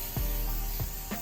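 Short bursts of cooking spray hitting a grill grate before Cornell chicken goes on, three quick hissing spritzes over a steady low outdoor background, close and fairly loud.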